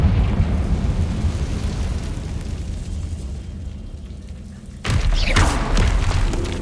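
Blasting spell explosion in a Hogwarts Legacy game: a low rumbling blast fades away, then a sudden loud boom bursts in with crackling debris and a deep lingering roar.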